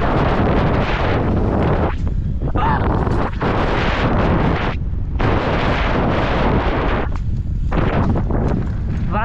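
Strong wind roars into the microphone during an outdoor ride, a loud, continuous buffeting rumble that fills the whole clip with brief dips.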